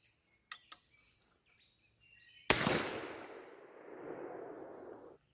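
A single loud blast from a Winchester Model 37A 20 gauge shotgun firing a shell outdoors, a sharp crack with a long rolling echo fading away, preceded by faint clicks and birdsong.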